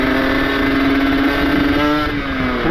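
Kawasaki Ninja motorcycle engine revving loud and close with a strong, steady exhaust drone, pitch holding level then sliding slightly higher near the end, with no voices.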